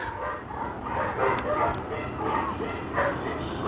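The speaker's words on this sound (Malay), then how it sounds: "Anjing tu ikut dia, oi." A dog barks and yips several times at a distance, faint and intermittent over a steady outdoor hiss.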